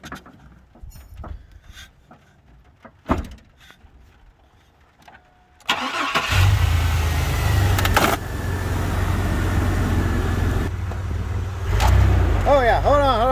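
Car in a garage project cranked to life: quiet shuffling and a few clicks first, then the engine catches and settles into a loud steady idle with a couple of revs, and voices talk briefly near the end.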